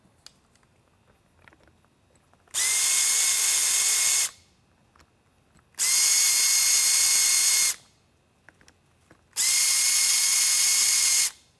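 A power drill backs screws out of a Whelen ION V-Series Super-LED surface-mount light in three separate whirring bursts of about two seconds each, close and even, with quiet pauses between.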